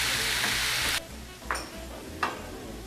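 Ground meat browning in a hot pan for shepherd's pie, with a loud, steady sizzle that suddenly drops back, then is broken by two short scraping stirs.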